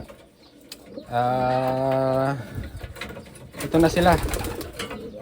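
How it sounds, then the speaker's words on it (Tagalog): Taiwan pigeons coo in a long, steady harmonic call held for about a second, close by. A person then speaks briefly over the birds. "nandito na yung mga ibon nyo"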